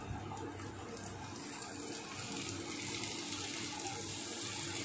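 Water pours steadily into a cooking pan of stir-fried mixed vegetables with carrot and capsicum, a continuous close, even splashing rush for several seconds with no talk.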